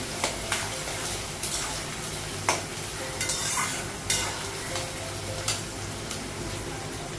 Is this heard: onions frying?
yes